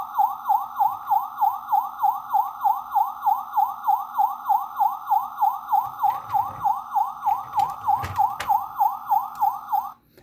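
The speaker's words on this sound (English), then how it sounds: "the second one would be the sirens" A loud, rapidly wailing siren from a Transformers Universe 2.0 Hardhead toy repeats its rising-falling cycle steadily for about ten seconds, with a few clicks near the end before it cuts off.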